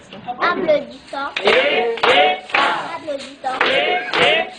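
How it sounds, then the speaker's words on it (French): Church congregation clapping together during a French-language service, steady applause mixed with voices speaking and calling out over it. "Applaudissons."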